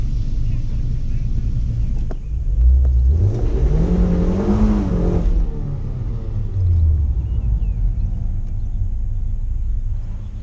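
A Mazda MX5 in a hill climb paddock at Wiscombe Park does burnouts, its engine revving up in loud surging swells with rumbling and rising pitch, then settling into a steady idle.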